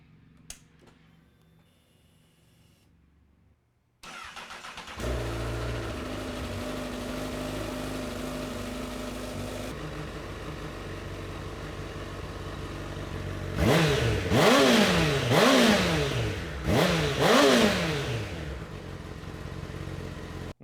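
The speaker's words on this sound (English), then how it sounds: "let's give you a little cold start and warm up the bike before we drain the oil" A 2022 Honda CBR1000RR motorcycle with lower fairings removed cold-starts after a short pause, settles into a steady idle, then gets several sharp throttle blips that rise and fall quickly, close and loud with no talking.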